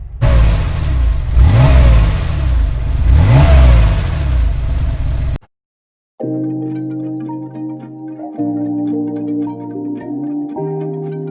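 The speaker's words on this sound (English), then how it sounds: "now we're going to take a listen to the exhaust" A 1986 Porsche 911 Carrera 3.2 Convertible revs its exhaust loudly several times in rising and falling sweeps, then cuts off abruptly; music follows after a brief silence.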